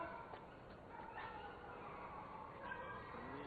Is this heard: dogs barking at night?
yes